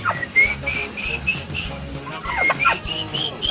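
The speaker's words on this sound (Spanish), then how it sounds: "Miren, nada más un guajolote." A turkey gobbles close by in a series of rapid, warbling bursts, with a few sharper high calls toward the end and no talking.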